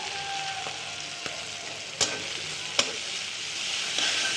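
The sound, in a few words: onions added to frying banana curry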